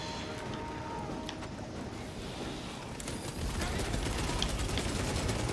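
Autobolt rifle gunfire from Space Marine 2 rattles in dense, rapid bursts, growing louder and heavier partway through, with a voice talking faintly beneath.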